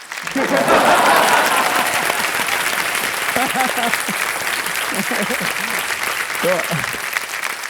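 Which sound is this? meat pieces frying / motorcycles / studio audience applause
studio audience applause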